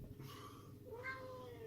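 A faint cat meows once or twice at a distance, set against a steady background hum in a quiet room.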